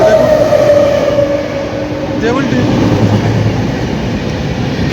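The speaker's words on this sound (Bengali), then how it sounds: "অবশেষে এসে পৌঁছালাম 1 ঘন্টা 40 মিনিট পর দেউলটি স্টেশনে। 3 নম্বর প্ল্যাটফর্মে দিয়েছে ট্রেন।" A train pulling into Deulti station at platform 3, with a steady rumble of wheels and carriage noise close by, a brief rising squeal partway through, and a voice speaking over the rail sounds.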